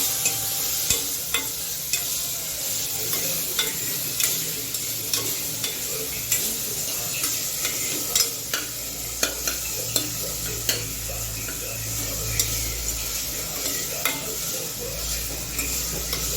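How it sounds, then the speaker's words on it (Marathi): Onion sautéing in a pan after asafoetida, cumin and mustard seeds, giving a steady close sizzle with a spoon scraping and clinking against the pan in a regular stirring rhythm, and no talk. "आता हे चांगलं परतून घ्यायचं आपल्याला"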